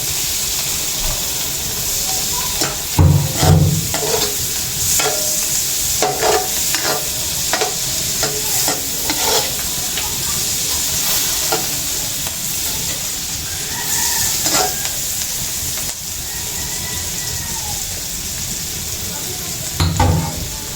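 Garlic and onions sizzle and hiss steadily in a hot pan, with occasional scraping and stirring clatters rising above the constant frying noise.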